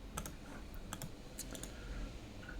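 Keys click on a computer keyboard while typing a command into a terminal, soft, close taps in a quick irregular run over a faint background hiss.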